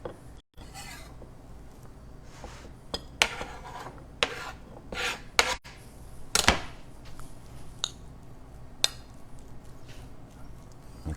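Empanada filling stirred and scraped in a bowl, with intermittent rubbing scrapes and clinks of a utensil against the bowl, close and moderately loud with brief pauses.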